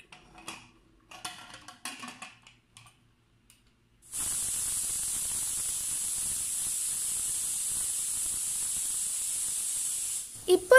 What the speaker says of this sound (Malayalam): ഇപ്പോൾ 2ാമത്തെ വിസിലടിക്കാനായി. അതിന് മുന്നേ നമുക്കിതൊന്ന് ഓഫ് ചെയ്യാം.